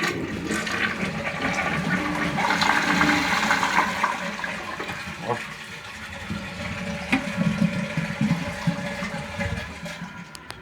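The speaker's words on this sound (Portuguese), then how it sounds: "Vamos lá descarga." A household toilet cistern flushes after a repaired fill valve, water rushing loudly and steadily for the full length, then gurgling and refilling, with a brief spoken interjection near the start.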